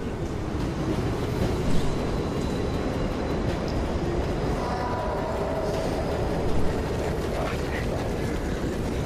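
A train departs in the zombie shooter World War Z with a continuous heavy rumble and clatter of rail cars rolling at steady volume, joined by faint higher tones and no speech.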